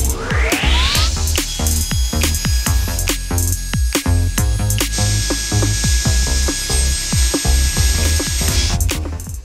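A panel saw cuts wood in a joinery workshop for boat interiors, giving a loud, steady whine with a high ringing tone, broken by repeated sharp knocks and clatter from the workpiece and shop.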